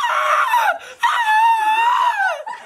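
A person lets out two loud, close, high-pitched screams, the first short and the second longer and drawn out, with a brief gap between them.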